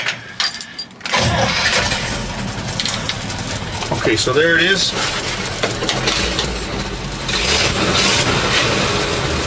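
A truck engine turns over and catches, then settles into a steady idle rumble at about 400 RPM close by, with someone talking briefly over it.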